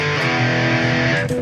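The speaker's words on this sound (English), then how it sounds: "X distortion," Electric guitar through a Boss OD-200 pedal in X distortion mode, a sustained, harmonically dense distorted chord ringing steadily and loud for a moment, with a brief pick scrape near the end.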